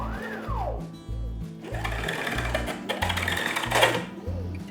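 A CNC machine draws guitar fretboard layout lines, its stepper motors whining in rising and falling sweeps over rhythmic pulsing buzzes, close and fairly quiet with stops and starts.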